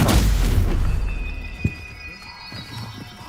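A Stupefy spell blast in Hogwarts Legacy, a loud booming impact at the start that decays into a rumbling tail, with a small pop afterward.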